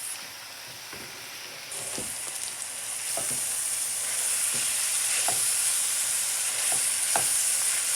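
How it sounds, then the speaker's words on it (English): Onions and peppers with minced garlic and seasoning sizzle in a hot pan, a steady close hiss that swells as they are tossed, punctuated by a few scattered clacks of stirring; nobody speaks. "I'm just going to give this a good toss."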